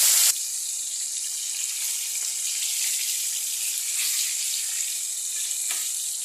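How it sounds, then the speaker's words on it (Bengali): Hot oil sizzles and crackles steadily as fish fry in a pan, close by, with no voices. "এখন তেলটা একটু গরম হলেই মাছ ভাজা করব।"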